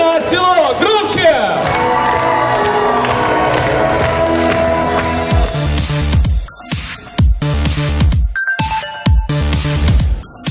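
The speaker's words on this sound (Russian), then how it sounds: "Еще ваши аплодисменты." An audience applauds at a festival gala concert. Music plays first, then loud clapping and cheering rise in uneven bursts while a presenter talks over the crowd.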